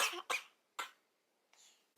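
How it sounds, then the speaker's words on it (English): A person gives a few short, sharp coughs close to the microphone, two in quick succession and then another, with a softer breathy sound toward the end and no speech. "Sorry, just had to have a coughing break."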